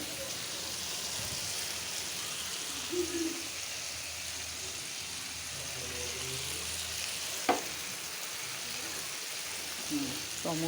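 Shrimp and tomato gravy frying in a pan gives a soft, steady sizzle and bubbling, close and fairly quiet, with a few brief clinks of a spoon against the pan.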